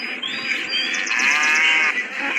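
A cow moos loudly and close by in one sustained, rising call on a farm, with no talk over it.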